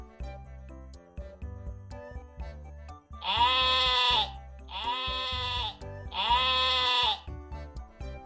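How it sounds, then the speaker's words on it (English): Three loud, drawn-out sheep bleats, each lasting about a second, separated by short pauses and set over soft background music. "Sheep."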